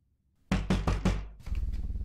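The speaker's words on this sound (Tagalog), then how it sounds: "Hanggang sa may kumatok, napakalakas na kat." Loud knocking on a door in a horror film comes as four heavy, evenly spaced thuds after silence, followed by a quicker, fainter run of knocks.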